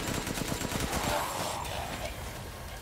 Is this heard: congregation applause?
no